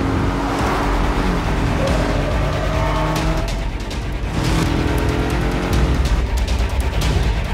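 A Jaguar XE sedan on a flying lap of an old road-section Grand Prix circuit, its engine droning loudly and steadily up close, pitch climbing through the gears with brief dips at shifts and faint tyre noise.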